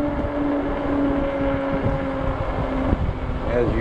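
Wind buffets the microphone during a ride on a 20-inch 48V fat-tire Ecotric e-bike downtown, a steady rushing roar with faint background traffic tones, continuous and close throughout.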